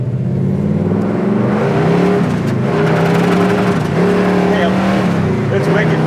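A 1969 Chevelle Malibu SS engine with a 4-speed roars steadily as it accelerates, loud and close, its low rumble rising in pitch with faint talk mixed in.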